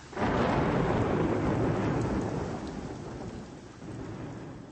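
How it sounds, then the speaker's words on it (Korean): A thunderstorm with heavy rain and hail mixed together, a loud, dense downpour with rumbling thunder that swells at the start and then slowly eases, with no voices. "폭풍이 부는 소리가 들리더니 비와 우박이 뒤섞여 떨어졌다. 천둥이 빛발에 얻어맞은 풍경 위에서 우르릉거렸다."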